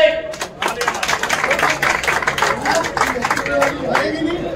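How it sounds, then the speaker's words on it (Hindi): Clapping and cheering from a crowd at an Indian ustaad's turban-honouring ceremony in Malkaganj, a dense rattle of hands that runs steadily for several seconds at moderate loudness. "भाई जोरदार ताली तो बजा दो।"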